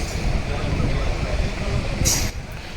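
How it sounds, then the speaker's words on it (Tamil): A passenger train on a pilgrimage trip to Thirunallar rolls slowly along the rails, a steady close rumble and clatter of carriages with a brief hiss near the end. "ட்ரெயின் இன்னும் ரன்னிங் ஸ்லோ தான். இன்னும் வேகம் பிடிக்கல, போயிட்டுருக்கு."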